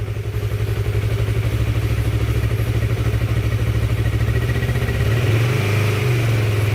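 A Honda CB150R motorcycle with a fast-draining battery idles with a fast, rough putter, then revs up noticeably near the end, close and loud.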